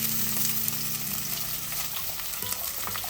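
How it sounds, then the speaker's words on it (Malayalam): Shallots with lightly crushed ginger and garlic sauté in a pan, a steady close sizzle with soft stirring scrapes and a brief low hum early on. "എല്ലായിട്ട് നന്നായിട്ടൊന്ന് വഴറ്റാം."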